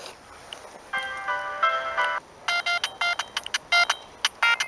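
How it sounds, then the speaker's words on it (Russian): A Siemens C6V mobile phone, a Vodafone version of the C65, plays a polyphonic ringtone through its small speaker, first as a short chordal phrase, then as a run of bright staccato synth stabs. "Вот так звучит полифония."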